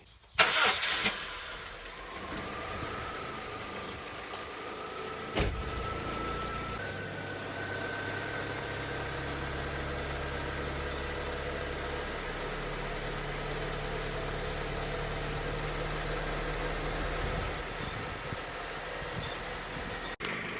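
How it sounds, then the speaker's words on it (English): A 1997-2001 Honda CR-V engine cranks and starts, then settles into a steady idle with a low hum and faint rising tones, running continuously for about twenty seconds with no talk. "So I'm going to start the car and wait until all the air comes out."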